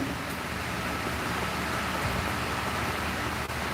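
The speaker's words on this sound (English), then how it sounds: "It is raining in Michigan" Steady outdoor rainfall in Michigan, an even, close hiss of drops hitting surfaces that holds constant throughout, with no clear voices.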